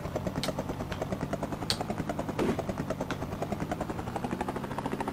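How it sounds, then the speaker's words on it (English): Helicopter taking off in the Amiga game Rescue: a steady, rapid rotor chop pulses evenly throughout, with faint clicks over it and no voices. "So you got to wait 2 seconds for the helicopter to take off."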